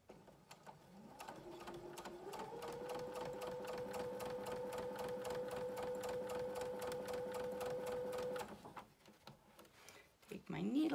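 A sewing machine stitches a 100% cotton gaiter in one long run, a rapid even needle rattle over a rising then steady motor hum that stops abruptly, followed by a few handling noises.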